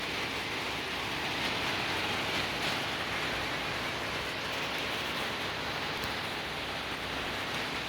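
Steady rain falls over a mountainside setting near Mount Merbabu, producing a dense, even hiss with no breaks for the whole stretch and no voices.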